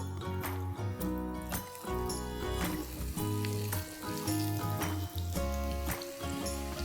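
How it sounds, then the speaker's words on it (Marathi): Pieces of zunka vadi, a Maharashtrian gram-flour snack, shallow frying in hot oil, giving a steady sizzle that sits under loud, continuous background music throughout. "तेल तापलेलं आहे, आपण ह्यात वड्या घालूया।"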